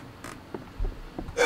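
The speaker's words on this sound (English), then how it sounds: "Ooh, creaky stairs!" Creaky wooden stairs in a video game, a few short creaks and thumps spaced irregularly, fairly close, with a louder burst at the end.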